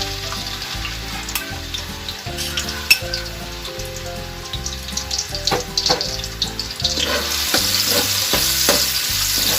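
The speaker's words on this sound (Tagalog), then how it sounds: "Ikigisa na natin ang sibuyas." Onion sautés in a pan for ground pork guisado, a steady close sizzle with scattered stirring clicks, swelling louder toward the end over rhythmic background music, no one speaking.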